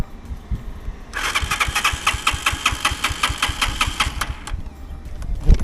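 A stalled motorcycle engine is cranked by the starter in a steady, rapid chugging whir lasting a few seconds, loud and close, then cuts off without catching.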